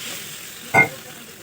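Water poured into a sizzling curry in a pan, a single brief loud burst of hissing close up over a low background sizzle.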